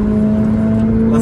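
A Renault Clio RS engine pulls in third gear at about 4000 rpm through a Cobra exhaust, giving a loud, steady droning hum close to the microphone in a short burst.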